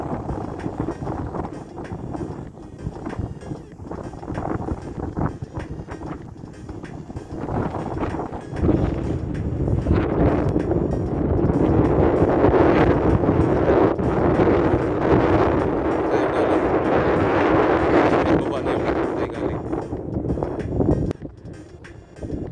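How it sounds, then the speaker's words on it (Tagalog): Strong wind buffets the microphone in a steady, rumbling roar that swells louder midway and holds, with no voices, up in the mountains. "Napakalakas ng hangin dito."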